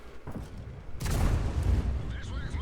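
The main gun of an SDP wz 66 Grom tank fires in a tank video game, a single heavy boom with a long rolling rumble after quieter engine noise.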